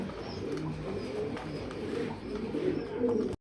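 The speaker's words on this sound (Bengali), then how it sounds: "সর্বোচ্চ কোয়ালিটির কবুতর" Pigeons at a pigeon farm coo steadily in a soft, overlapping chorus of low throaty calls, with faint chirps and rustling in the background.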